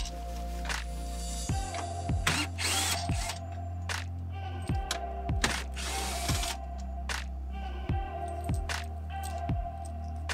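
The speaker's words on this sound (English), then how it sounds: "This is where I needed the 10mm socket and impact drill." Impact drill with a 10mm socket removing the bolts on top of the grille of a Ford F350, repeated short buzzing bursts with falling pitch and ratcheting clicks between them.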